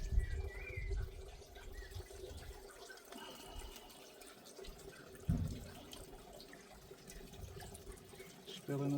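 Fuel pours into the tank of a Briggs & Stratton 500e small engine, giving a steady close trickle and splash with a few louder sloshes, while a person briefly talks nearby.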